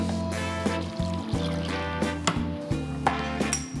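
A cup of water poured into a pot of peppers and eight garlic cloves for a hot sauce, heard as a trickling pour with small clinks, fairly faint beneath steady background music.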